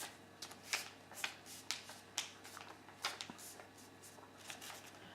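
Paper is folded and creased into a paper plane, heard as a string of crisp, separate rustles and sharp creasing swipes at an irregular pace, close and fairly quiet, with no voices.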